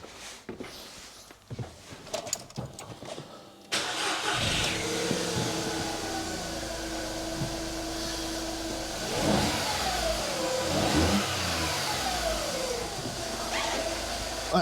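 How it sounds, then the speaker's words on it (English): A 2008 VW Fox 1.2 petrol three-cylinder, fresh from a spark plug change, cranks briefly after some clicks and handling noises, then catches and settles into a steady idle with a couple of light revs rising over the hum. "I'm just going to start the engine and make sure it ticks over and runs nice and smoothly"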